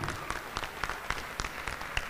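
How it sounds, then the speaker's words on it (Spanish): An audience at a televised singing contest applauds the contestants, a faint, distant spread of claps with a loosely regular beat. "un aplauso por favor, para Jairo,"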